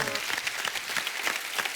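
Studio audience applause on the Kapil Sharma comedy show, a dense wash of clapping at moderate level with scattered louder claps, steady throughout with no talk over it.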